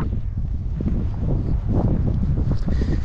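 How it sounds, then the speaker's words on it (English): Rough, low rumbling gusts of wind buffet the microphone continuously, loud and close, with no speech. "it's windy and unpleasant today"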